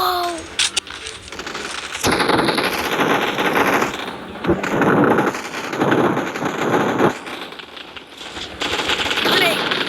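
Rapid video game gunfire crackles in dense bursts, mixed with explosive blasts from a grenade, loud and continuous, with excited voices shouting over the fight.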